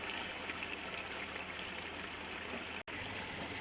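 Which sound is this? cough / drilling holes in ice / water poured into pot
water poured into pot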